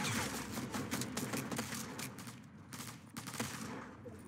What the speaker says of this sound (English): I hit him for 75 with a hand cannon